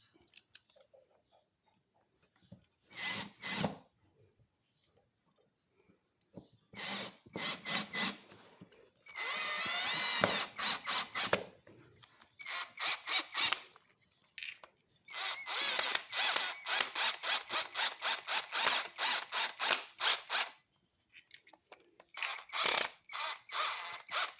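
Copy-brand power drill driving a 3-inch screw into softwood, in repeated loud whirring bursts of a few seconds each, separated by pauses, with the motor pitch straining and dropping as the screw bites.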